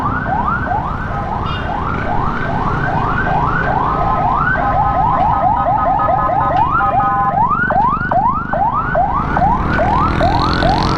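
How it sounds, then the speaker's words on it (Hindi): An ambulance siren wails in a fast repeating rising sweep, loud and close, over the steady rumble of traffic on a busy Karachi street crowded with hotels and carts. "एम्बुलेंस को गुजरने में इतनी मुश्किलात का सामना हो रहा है"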